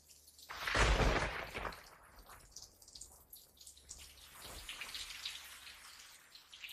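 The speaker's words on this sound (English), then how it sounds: "Rain's gonna keep coming down all night." Water patters and splashes like falling rain, with a louder rush early on and softer, irregular drips afterward.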